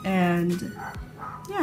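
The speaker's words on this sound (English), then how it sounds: "I'm sorry about my dogs barking outside." Pet dogs bark outside in repeated yipping, whining bursts that sit close and fairly loud, heard from indoors while someone speaks briefly over them.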